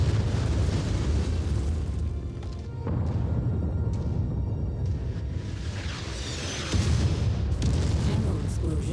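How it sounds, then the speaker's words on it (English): Ammo explosion in the MechWarrior video game: heavy rumbling blasts and deep booms rolling over several seconds, with a fresh burst near the end, loud and low under dense game noise. "Ammo explosion detected."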